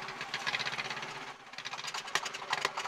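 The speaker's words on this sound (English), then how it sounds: "It's time to start the engine, which all we have to do now is crack the throttle." A Caterpillar D8 dozer's diesel engine runs at a rough, knocking idle, a low steady rumble with uneven beats and a few sharper clatters, heard alone at moderate distance.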